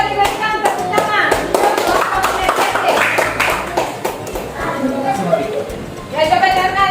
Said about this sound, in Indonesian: coba diberikan tepuk tangan